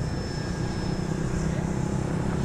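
Twin front electric motor RC airplane flying overhead, a steady mid-distance motor drone with a faint high whine holding level throughout, with no other sounds.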